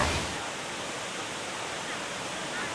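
The large Huai Luang waterfall in Ubon Ratchathani, Thailand, fed by the Huai Luang stream, roars as a steady, dense rush of falling water, broad and constant with no breaks.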